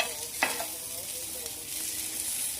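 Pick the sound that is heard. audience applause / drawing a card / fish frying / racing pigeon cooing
fish frying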